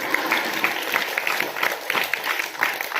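An audience at a religious discourse claps in steady, dense applause at moderate volume, with many overlapping hand claps forming a continuous patter.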